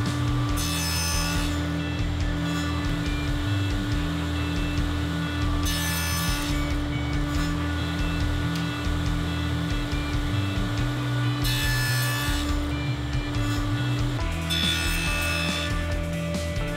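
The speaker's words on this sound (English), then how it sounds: "With a piece of chalk, I'm gonna put a reference mark on one side of all my boards." Chalk scrapes across wooden boards in four short, scratchy strokes spaced a few seconds apart, each rising over a steady, loud workshop hum.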